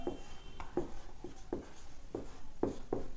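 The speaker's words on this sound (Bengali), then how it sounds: "এখানে লিখে দিচ্ছি" Marker or chalk writing on a classroom board during a spoken English lesson, a series of short rhythmic scratchy strokes, about seven in three seconds, close and moderately loud over faint room tone.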